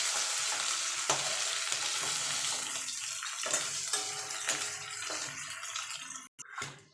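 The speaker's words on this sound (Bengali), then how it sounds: "এটাকে আমি একটু লাল লাল হালকা রং ধরা পর্যন্ত ভেজে নেব" Okra fries in hot mustard oil in a pan, a dense, close, steady sizzle with occasional stirring clicks that cuts off abruptly at the end, no one talking.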